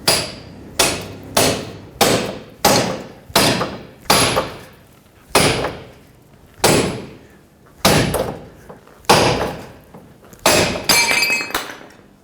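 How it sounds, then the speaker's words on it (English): Sharp metallic hammer blows drive a pickle fork to separate a front ball joint from the steering knuckle on a 2003-2008 Toyota Corolla, about a dozen ringing clanks spaced roughly a second apart, loud and close. "Take your pickle fork, and we're going to use this to separate the ball joint from the knuckle."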